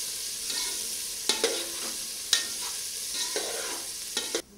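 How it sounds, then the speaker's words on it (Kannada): Onion, curry leaves and chillies fry in hot oil for jeera rice, giving a steady close sizzle broken by several sharp scrapes and clinks of a spoon stirring the pan. "ಈರುಳ್ಳಿ, ಕರಿಬೇವು, ಮೆಣಸು ಹಾಕಿ ಕರಡಬೇಕು."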